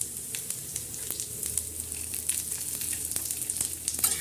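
Garlic tossed into a pan of roasted coriander and onion seeds, a soft continuous sizzle with scattered crackles and pops, close and fairly quiet, with no talking.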